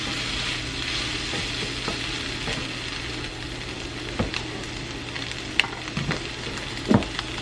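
Flour cooks in sausage grease for gravy with a steady close sizzle, broken by a few scraping stirs and light knocks from the utensil against the pan.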